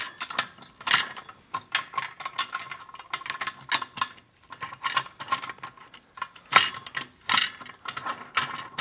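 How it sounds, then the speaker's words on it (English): Metal lid being fitted onto a pressure pot for resin casting, its tabs lined up with the locking levers, giving irregular close clicks, clanks and ratcheting scrapes with short pauses between them. "First thing we want to do is get our lid on. I'll line up the tabs with the locking levers."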